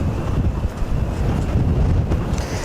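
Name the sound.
strong wind blowing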